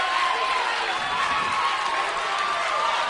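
Crowd at a high school wrestling bout between Phillipsburg and Hanover Park, a dense, loud, continuous roar of cheering that fills the gym, with a commentator talking over it.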